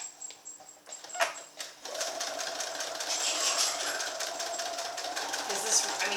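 A sewing machine stitching a crazy quilt block hums steadily with a fast mechanical rattle, starting after a few quiet clicks and running continuously, with some faint talk in the background.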